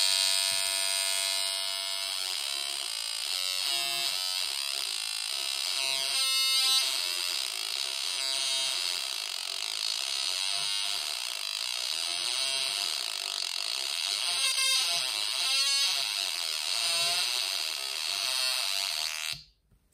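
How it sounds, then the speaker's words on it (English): A breadboarded Atari Punk Console synth circuit buzzes loudly and continuously, a harsh stepped square-wave drone with shifting pitch and repeated bursty stutters, alone until it cuts off at the end. "So here's our breadboarded Atari Punk console. Let's see if it sounds like an Atari Punk console."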